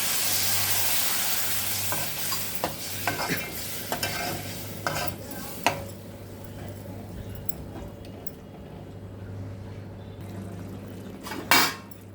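A spoon scrapes and clinks against a pan as a prawn and cucumber curry simmers with a soft sizzle, with intermittent sharp metallic knocks and a steady low hum throughout.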